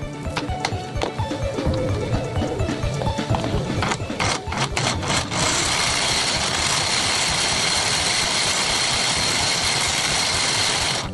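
An electric coil winding machine runs with a busy mechanical clatter and rapid ticking at first, then settles into a steady, loud whirring hum that continues evenly to the end.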